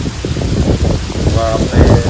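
Steady rain falls outdoors, a continuous broadband hiss of drops that stays level throughout, with people talking over it.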